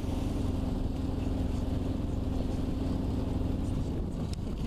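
A sailboat's diesel engine runs while motoring in light wind, giving a steady, close, unbroken throbbing drone with no letup and no voices.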